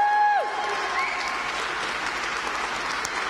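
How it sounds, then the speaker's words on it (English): Audience applause for the winner of a Rocket Formula 4 team seat at a young drivers' racing competition final, a steady sustained clapping that fills the clip after a brief amplified voice at the start. "Put your hands together for Deegan Fairclough."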